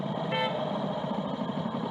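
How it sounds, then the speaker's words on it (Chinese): Car horn honking from behind on a road, a short clear toot near the start, then steady traffic noise continues. "但后壁煞传来起喇叭的声音"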